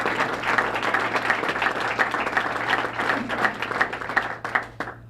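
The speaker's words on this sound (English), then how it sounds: "Let's give these three guys another round of applause." A room full of people applauds after three men are honored at a Baton Rouge jobs announcement, steady dense clapping that holds for several seconds before tapering off.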